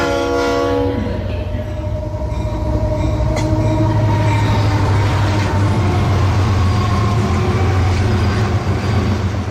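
A train rumbles along the rails as a sound effect in a Bengali radio drama, opening with a loud horn blast that fades into a steady, close clatter and roar with no talk.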